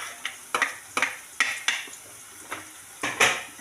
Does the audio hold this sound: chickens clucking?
no